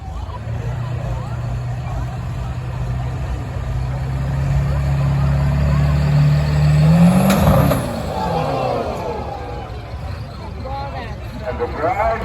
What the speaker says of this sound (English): drivers are out for Mitch Shannon with the 95 Ford Ranger